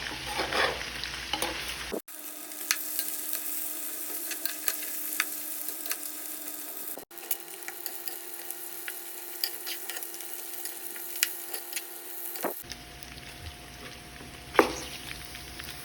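Meat for arroz carreteiro frying in a pot, a steady loud sizzle broken by repeated scraping stirs, cutting out briefly twice and returning, with no talk.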